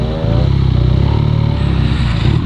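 A 2017 BMW R nineT motorcycle engine idles close by with a steady, deep rumbling throb, loud and continuous with no voices over it.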